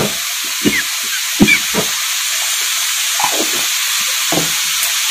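Radish being sautéed with spices and salt in oil for a Bengali mulo ghonto, a constant loud pan sizzle broken by several soft scraping stirs.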